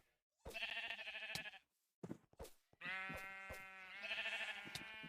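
Sheep in Minecraft bleat several times in close, loud, wavering calls separated by short pauses.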